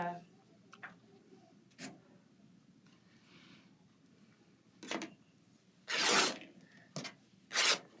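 Fabric strip being torn by hand from leftover backing material, cut on the diagonal bias after folding; sharp ripping bursts around the middle and end, the loudest two near the close, close and clear over a quiet room.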